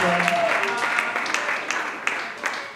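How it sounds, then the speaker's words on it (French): Crowd applause in a Pentecostal church service, dense and steady, with a few clearer claps and a brief voice or tone mixed in near the start. "Est-ce qu'on peut applaudir pour le frère?"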